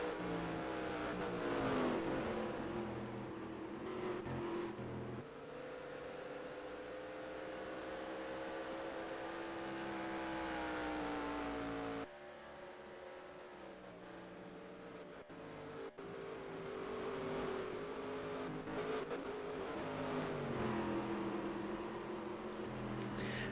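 Race trucks lapping the Lakewood track in the Strong Swimmer 150, engines droning steadily and continuously with rising and falling pitch, a sustained mid-distance roar without a break.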